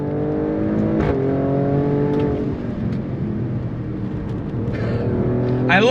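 A 2023 Alfa Romeo Stelvio Quadrifoglio SUV pulls hard on throttle, its engine note climbing steadily through a loud sustained roar, with a shift-like dip partway before it surges higher again.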